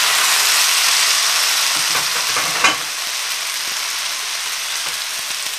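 Pad thai noodles hit a hot pan with a loud, steady sizzle and hiss, a brief clatter of stirring near the middle, then the frying settles into a continuous crackle with no voices.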